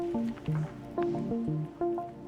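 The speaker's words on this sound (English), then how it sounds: "I'm collecting some samples of the water that's trickling from above" Water trickling from above inside a cave, falling as a steady series of hollow, ringing drips about every half second, close and clear with no talk.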